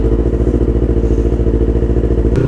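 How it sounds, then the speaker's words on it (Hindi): A modified Yamaha R3 motorcycle with a Scorpion full exhaust system and flashed ECU rumbles loud and close, its steady throbbing idle pulsing evenly before a brief shift in tone at the end. "तो गाइस अब मैं कर रहा हूँ राइड उस R3 को।"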